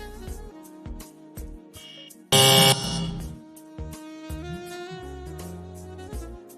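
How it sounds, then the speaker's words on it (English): A quiz contestant's buzzer at a Nigerian pharmacy quiz show gives one loud, harsh burst lasting about half a second, standing out from steady background music. "Contestant 1, please hit your buzzer."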